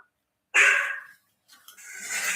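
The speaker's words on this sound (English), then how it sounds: "Sorry, that's my dog." A dog nearby gives a short, breathy bark, then there is a pause and a rougher huff or whine, heard alone without talk.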